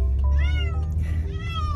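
Cats crying and meowing from inside a pet carrier, two rising, drawn-out meows heard close and loud over a steady low rumble, as from a moving car.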